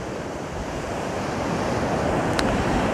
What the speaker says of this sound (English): loving the sound of the ocean